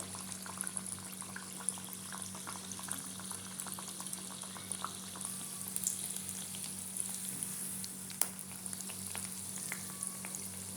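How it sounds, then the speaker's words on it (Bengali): Malpua batter fries in hot oil with a soft continuous sizzle and scattered small pops and crackles, steady and close, over a faint low hum. "মালপোয়াগুলো হালকা গোল্ডেন কালার হওয়া পর্যন্ত ভাজবো।"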